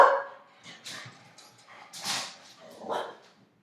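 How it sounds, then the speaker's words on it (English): Wrigley, a pet dog indoors, gives several moderate barks and yips spread across a few seconds, fairly close, with whiny edges and quiet gaps between. "The kids would like you to stop barking now, okay?"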